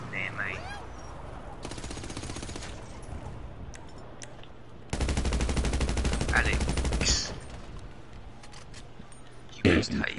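Bursts of gunfire from a cop shooting, two sustained rapid volleys of shots a few seconds apart, fairly close and loud, with a voice and scattered sounds between them.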